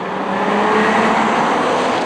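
A new Nissan Z car is driven at speed, its engine giving a loud, steady, close drone with faint tire noise and no change in pitch over the brief run.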